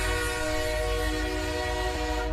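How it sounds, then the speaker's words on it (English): A train whistle blows in one long, steady, loud tonal blast with layered harmonic pitches and a low rumble beneath it. "Blow the whistle. Going off the rails. The train!"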